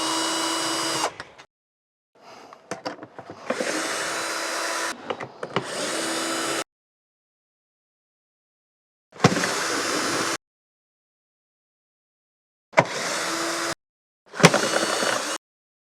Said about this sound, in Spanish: vamos a empezar a quitar esta parte de la carcasa, que es la que cubre la electrónica, quitando los tornillos